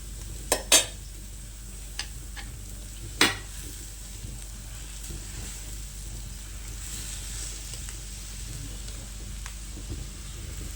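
Kootu curry with its ground coconut paste is stirred and mixed in a pan during Onam sadya cooking: a few sharp utensil clinks against the pan early on over a low, steady background hiss, with no talking.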